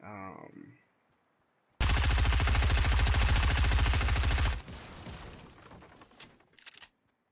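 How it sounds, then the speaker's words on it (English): Fortnite gunfire empties a full magazine in one loud, continuous rapid burst lasting nearly three seconds, followed by fainter rattling and debris sounds, with brief speech just before. "I'm shooting through 3 mats. Which that takes a full magazine."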